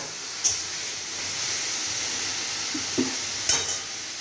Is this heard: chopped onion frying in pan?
yes